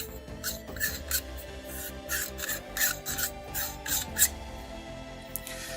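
Metal threads of a Rapido clamp grind and rasp as it is screwed onto an Iscomorphot 8/2x anamorphic lens, close-up as a series of short rhythmic scraping strokes over faint background hum.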